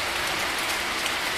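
Heavy rain pours down in a dense, steady hiss of countless drops, loud and constant throughout the short stretch, with no voices.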